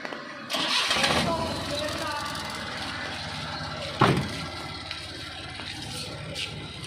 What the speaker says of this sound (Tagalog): start the engine and idle it for 3 minutes